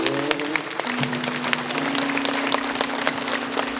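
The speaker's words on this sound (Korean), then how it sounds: "선생님께 감사의 박수 한번 해주십시다." Congregation clapping in thanks during a Korean church worship service, a steady, loud burst of many hands over a sustained low tone, continuing evenly to the end.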